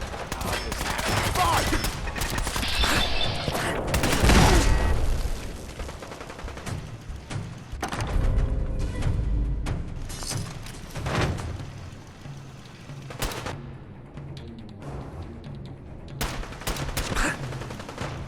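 Rapid gunfire fills a Fallout 4 battle, with dense bursts of shots and heavy booming impacts overlapping continuously at close range. Some voices can be heard faintly in the mix.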